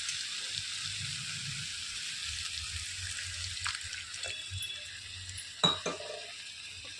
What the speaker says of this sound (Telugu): మొత్తం కలిపేసుకొని ఒక 2 నిమిషాల తర్వాత ఒక చిన్న గ్లాసు ఎసరు పోసుకుంటున్నాం